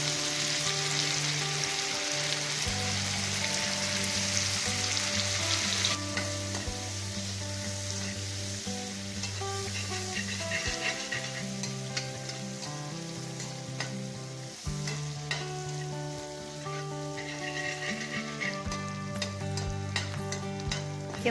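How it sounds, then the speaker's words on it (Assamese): Onions frying in a pan with chilli and garlic paste for a boriola fish curry, giving a steady, close sizzle throughout with background music running underneath. "পিঁয়াজখিনি অলপমান ভজা হ'ব লাগিব।"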